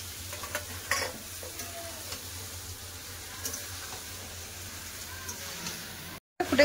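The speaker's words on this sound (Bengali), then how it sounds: "মাংসটা কষা হচ্ছে" Meat being stir-fried (kosha) in a pan with chopped mint leaves and salt, giving a steady low sizzle with soft scraping and stirring strokes throughout, close and moderately quiet, with no talking.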